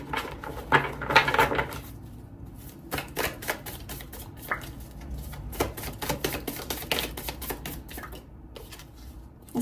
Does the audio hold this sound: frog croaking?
no